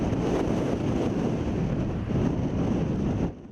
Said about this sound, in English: Strong winds, some gusts in excess of 70 miles an hour pounding southern Colorado